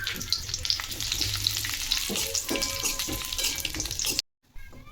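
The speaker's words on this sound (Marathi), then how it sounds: "आता आपण आपली खजूर तुपामध्ये परतून घेऊ, मऊ होईपर्यंत परतून घ्यायचे आहे." Dates fry in ghee until soft, a busy, close frying sizzle with stirring scrapes that carries on steadily, then cuts out abruptly near the end.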